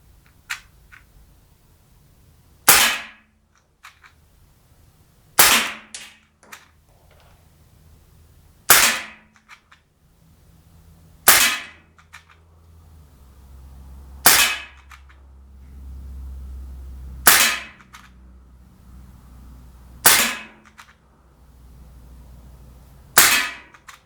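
A Sig Sauer M17 ASP CO2 blowback pellet pistol fires ten shots, each a loud, sharp crack with a snapping slide, evenly spaced roughly every two to three seconds outdoors, with no talking between shots.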